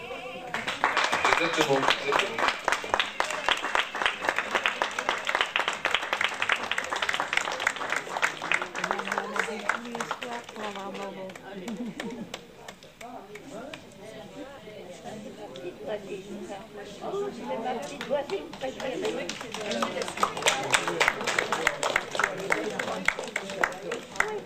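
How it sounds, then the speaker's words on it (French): Sustained, fairly distant applause from an audience thanking models at a 2005 fashion show in La Puisaye, rising and falling over about twenty seconds while a presenter talks. "il faut vraiment les applaudir bien fort"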